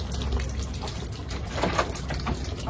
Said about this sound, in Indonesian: Dimulai dengan gemericik air,